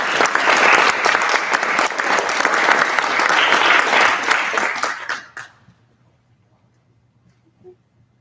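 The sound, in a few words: audience applause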